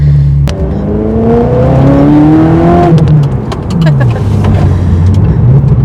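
A Ferrari 360 Spider accelerates hard, its engine note climbing through the gears in rising sweeps with brief dips at each shift. The sound is loud and close, and someone speaks over part of it.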